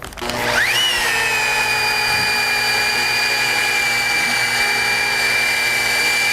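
A power buffer spins up to a steady high-pitched whine and keeps running smoothly, close and loud, with no talking, while buffing the edge of a 1965 Mustang Fastback hood with light pressure.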